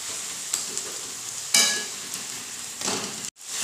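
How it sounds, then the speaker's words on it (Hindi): Cooked tomatoes being mashed in a hot pan for a potato and tomato paratha filling, a steady close sizzle with soft scraping stirs and one sharper scrape partway through, no talking. "आप देख सकते हैं ये अच्छी तरीके से मैश हो रहा है"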